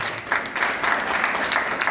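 Applause from a seated audience at a French-language talk on starting an income-generating activity as a student, steady clapping for the coach lasting about two seconds at a fairly even level.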